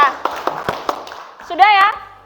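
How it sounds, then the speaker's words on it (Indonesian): A class gives a brief round of applause: a few scattered, sharp claps ring out, then a voice speaks near the end. "Oke, terima kasih Dylan, tepuk tangan buat Dylan."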